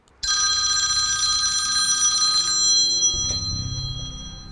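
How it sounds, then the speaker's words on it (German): A telephone rings with a bright electronic ring that runs steadily for a few seconds and then stops. A duller low clatter follows, and there is no talk. "Kurz vor 3:30 klingelte das Telefon"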